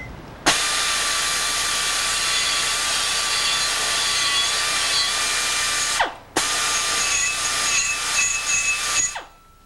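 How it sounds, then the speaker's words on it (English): A power tool deburring sharp metal parts for a Harley-Davidson Shovelhead gives a loud, steady high whine with a buzzing edge in two long runs and a brief stop between them, with no talk. "We just deburr these a little bit so we don't cut our hands when we're working with them."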